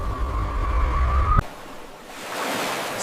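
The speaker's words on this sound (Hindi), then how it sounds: "लहरें आती हैं, लौट जाती हैं" Sea waves wash onto the shore and draw back, a loud continuous rush of surf that cuts off abruptly and returns as a softer, hissing swell.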